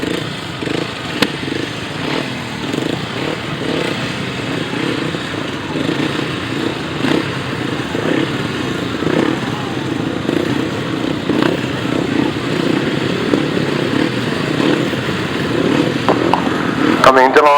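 Several 350cc solo grasstrack racing motorcycles idle and blip their engines at the start line of a British championship meeting, a steady rasping drone with bursts of revving throughout, building louder toward the end.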